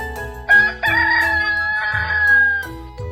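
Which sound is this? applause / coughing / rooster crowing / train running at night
rooster crowing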